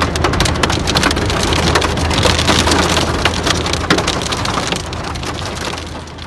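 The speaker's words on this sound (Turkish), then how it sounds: "Edirne'de etkili olan şiddetli sağanak yağış nedeniyle elektrik trafolarında arıza meydana geldi." Heavy rain downpour in Edirne, a loud, dense and continuous roar of rain hammering on surfaces, steady throughout with no voices.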